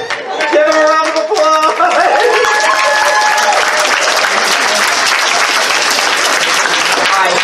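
Loud, sustained audience applause at a charity fursuit event, dense clapping filling the whole stretch, with voices and cheers over the start.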